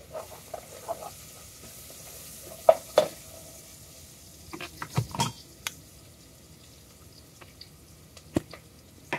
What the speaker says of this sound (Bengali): এটা দিয়ে একটু নেড়ে দিব, নাড়ে পুড়ে যাবে।